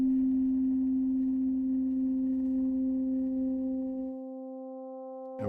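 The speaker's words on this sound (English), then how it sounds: "we get kind of the same sounds as we did when I was doing linear frequency modulation earlier, but this is phase modulation" A phase-modulation synthesized tone holds steady with a strong fundamental and stacked harmonic partials for about four seconds, then thins to a few pure partials before a brief noisy burst at the end; no voices.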